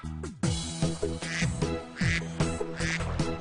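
A mother duck in a children's counting song gives loud, close, nasal quacks in quick rhythmic succession, roughly eight calls over a few seconds.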